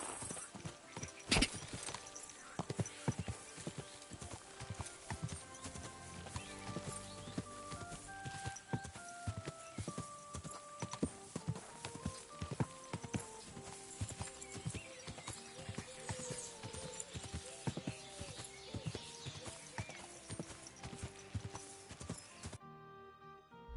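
Horse hooves clip-clopping steadily in Kingdom Come: Deliverance II, a walking rhythm of repeated hoof strikes with an occasional whinny, set against a continuous musical score.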